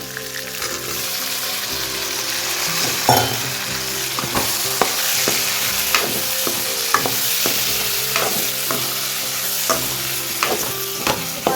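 Onion, garlic and tomato frying together in a pan, a loud dense sizzle throughout with repeated spatula scrapes and clinks as the mixture is stirred.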